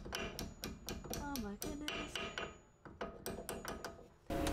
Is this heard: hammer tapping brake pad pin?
yes